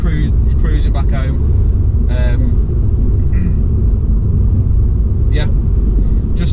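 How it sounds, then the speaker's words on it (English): Mini Cooper S F56 cruising on the road in mid drive mode, a loud continuous low rumble of engine and tyre noise filling the cabin, with someone talking over it. "So I'm just driving back now, I've taken out of sport, we're back in mid, I'm just, yeah, just cruising back home."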